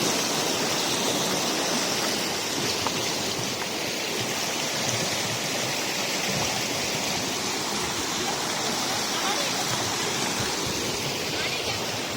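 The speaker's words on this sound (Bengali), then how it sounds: "আমি ভাবলাম তো কোনো ঝর্ণা পড়না হচ্ছে।" A rushing mountain stream, loud and close like a waterfall, pours steadily in the Numra valley near a summer camp, a dense unbroken roar of water with no pauses for twelve seconds.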